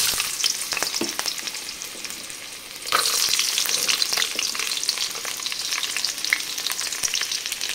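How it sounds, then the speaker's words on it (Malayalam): Ginger, garlic and green chilli frying in hot oil for homemade noodles, a loud constant crackling sizzle that surges sharply as more goes in, with stirring scrapes throughout. "എണ്ണ ചൂടായിട്ടുണ്ട്, ഇനി ഇതിലേക്ക് നമുക്ക് ഇഞ്ചിയും വെളുത്തുള്ളിയും ഇടാം,"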